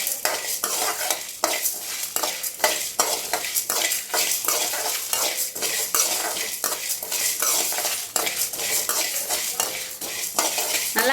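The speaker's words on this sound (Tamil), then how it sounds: "மல்லி, கடலைப்பருப்பு, சீரகம், மிளகு, இது எல்லாமே சேர்த்து ட்ரையாக வறுத்து எடுத்துக்கலாம்." Coriander seeds, chana dal, cumin and pepper are dry-roasted in a pan, a steady stream of light scraping, rattling and stirring from a utensil pushing the grains around, with a faint dry sizzle and no voices.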